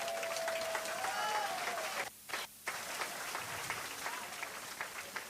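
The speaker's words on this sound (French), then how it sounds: "On acclame Jésus-Christ de Nazareth." A church congregation applauding and cheering, with dense continuous clapping broken by a brief pause, plus crowd noise and some voices mixed in.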